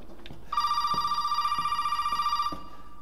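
A telephone rings inside the Resident Evil 7 video game, one sustained, steady electronic trill lasting about two seconds, loud and clear over quiet ambient background.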